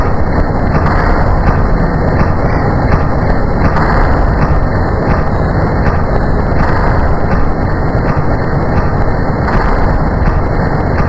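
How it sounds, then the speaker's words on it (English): A grenade goes off in the Melon Playground video game, a loud, sustained roaring blast that holds steady and dense for several seconds with no talk over it. "I better throw this grenade"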